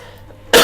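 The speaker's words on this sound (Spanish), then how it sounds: "Hablamos de contaminación y empiezas a toser." A man coughs once, a sudden loud burst after a half second of quiet room tone, the cough lasting to the end of the clip.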